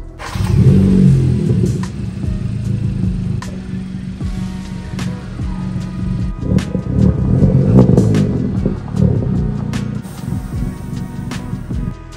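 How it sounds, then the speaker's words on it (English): A 9th-generation Honda Civic Si rolls into a garage, its engine rumbling low and rising in a few revs, with the car's noise swelling and easing throughout and no talk. "I'm gonna just move the car in the garage so we can start working on this"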